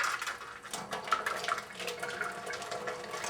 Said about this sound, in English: This will now make it a lot easier to put that hot water in the other direction.